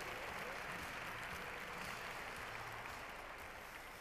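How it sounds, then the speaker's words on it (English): Applause from an audience at a company meeting, a steady broadband wash held at a fairly even level throughout, with no voices standing out above it. "Let's give Louise a round of applause."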